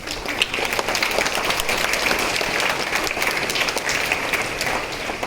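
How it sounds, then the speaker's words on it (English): Students and staff at a school morning assembly applaud with steady, dense clapping from a large crowd, sustained and loud throughout. "Please give them a huge round of applause"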